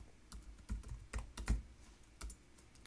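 Typing on a computer keyboard, a short burst of soft, close key presses in an uneven rhythm, alone in a quiet room.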